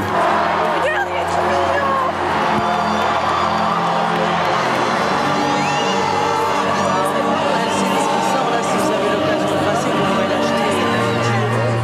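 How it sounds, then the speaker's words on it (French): A large crowd on the square outside Notre-Dame cheers and applauds as Pope Benedict XVI arrives, a steady, dense roar of ovation with whoops and babble throughout, and a voice speaking over it. "Benoît XVI arrive enfin sous les ovations de la foule."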